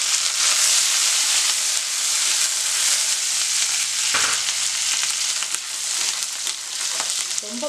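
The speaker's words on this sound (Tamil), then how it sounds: "இப்போ இந்த ஸ்டேஜில் கருவேப்பிலை போட்டுக்கலாம்" Curry leaves sizzle and fry in hot oil for a coriander chutney, a steady loud crackling hiss with a brief dip midway and no voices.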